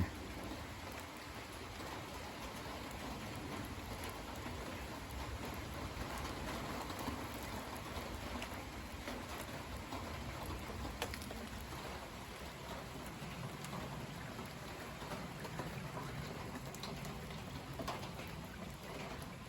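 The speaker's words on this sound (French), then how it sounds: "Là, l'averse est en train de prendre fin." Evening rain shower tapering off on a cold mid-September night, a faint, steady patter of drops heard from a distance with no voices.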